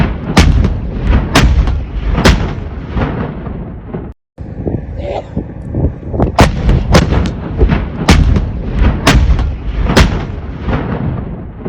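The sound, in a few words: artillery fire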